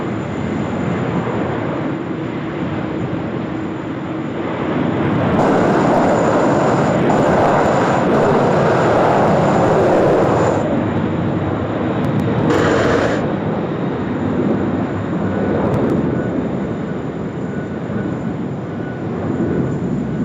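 An Airbus A330 jet rolls for takeoff at Sydney Airport, a loud, steady engine roar that swells and holds for the whole stretch, with a broad rushing texture.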